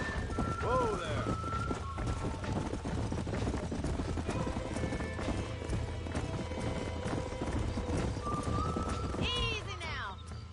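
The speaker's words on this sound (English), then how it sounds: "These are fine horses." Horses' hooves clip-clop steadily in the video game Red Dead Redemption, close and continuous, with occasional whinnies and people talking over the hoofbeats.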